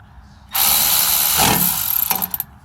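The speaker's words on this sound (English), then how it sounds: "battery powered drill" A battery-powered drill runs in one loud, close burst of about two seconds while working the rear brakes of a 2017 Chevy Silverado, then sputters to a stop in a quick series of clicking pulses.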